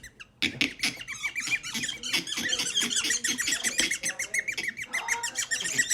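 Rapid, repeated high-pitched squeaks come from a carpet being slowly pulled up and removed, running continuously and fairly loud over several seconds with a busy, chattering texture.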